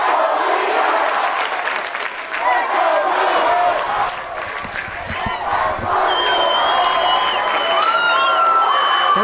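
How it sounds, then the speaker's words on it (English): Loud crowd at a high school championship series baseball game (Corner Canyon vs Lehi) cheering and yelling continuously, with whoops and shouts throughout and a few whistles standing out late. "And listen to this crowd."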